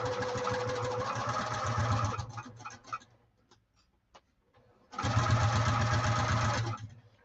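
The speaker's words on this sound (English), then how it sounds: "I'm going to stitch forward a couple of stitches, back." Sewing machine stitching a saddlebag lining at stitch length 3, running in a steady loud burst, stopping briefly with a few clicks and rustles while it back-tacks, then running forward again for another sustained stretch.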